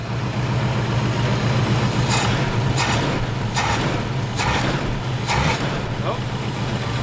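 A junkyard 1966 Ford Mustang V8 idles with a heavy, steady low rumble, and the engine note rises in several short bursts each time the gas is pressed.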